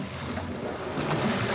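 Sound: speedboat on water

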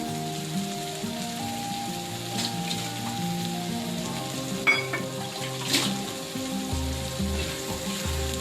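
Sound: Bombay duck fish frying in pan for chutney

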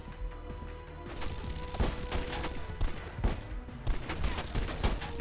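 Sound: pistol gunfire in the video game Red Faction Guerrilla

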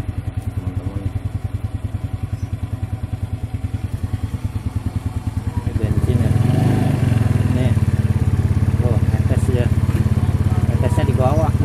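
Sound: Yamaha Mio scooter engine being revved

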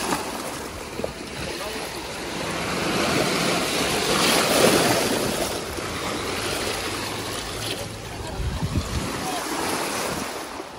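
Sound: strong waves at Do Darya beach

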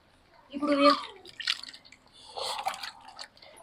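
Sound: water poured into a pot

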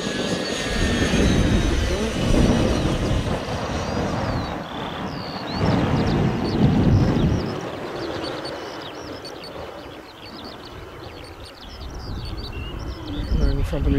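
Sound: model Fouga Magister jet flying at about half throttle

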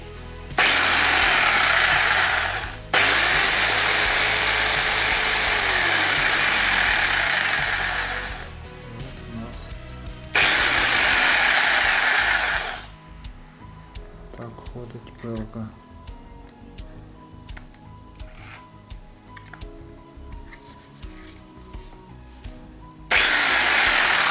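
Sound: electric jigsaw running

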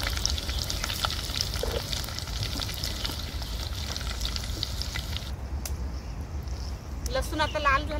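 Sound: crushed garlic cloves and curry leaves frying in hot oil

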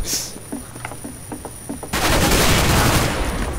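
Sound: gunfire in the video game CS:GO

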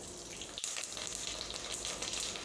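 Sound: mustard seeds and urad dal spluttering in hot oil

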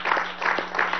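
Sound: audience applause

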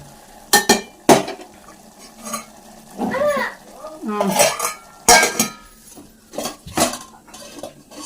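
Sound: pots and utensils while cooking tomato curry

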